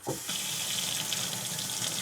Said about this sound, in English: what's your thoughts on the dual faucet here? I'm trying not to soak myself